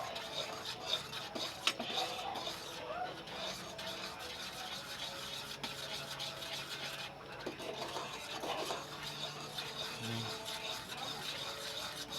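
Steady scraping and rubbing of a utensil stirring meatball sarciado in a pot, continuous and fairly quiet, with faint background noise throughout.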